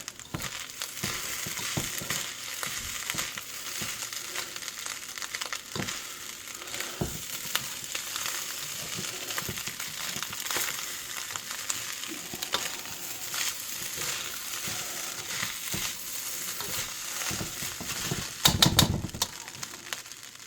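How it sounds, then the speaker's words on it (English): Mushrooms frying in a pan with garlic and shrimp for special fried rice, a soft continuous sizzle with faint crackles and a brief louder clatter near the end, no voices. "I'll go in with my mushroom now. I want them to soak up some of these flavours."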